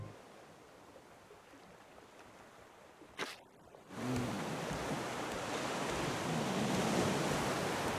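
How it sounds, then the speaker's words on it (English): Ocean wave ambience in the survival video game Raft: a soft, hissing wash that cuts out briefly, then swells back much louder as a broad, rushing surge with no voices. "the wave sound goes to 100 real quick"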